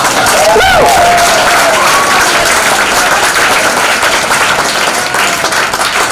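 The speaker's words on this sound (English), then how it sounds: "You guys think I was trying to get some more applause?" A book release party crowd at Powell's Books in Portland, Oregon gives close, loud applause, dense clapping with a few whistles and cheers that holds steady for several seconds.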